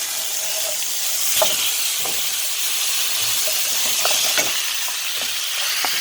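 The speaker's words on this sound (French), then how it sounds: "On va mettre le steak là, le steak." A steak sizzles steadily in a hot pan, a constant bright hiss with occasional pops and scrapes, close and loud, with no one speaking.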